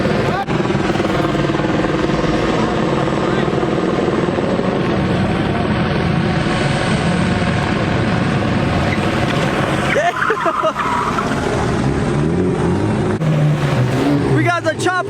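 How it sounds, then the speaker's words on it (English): A helicopter hovers overhead at a large California car meet, its steady loud rotor drone blending with car engine noise throughout, while people talk underneath. "We got the chopper on top."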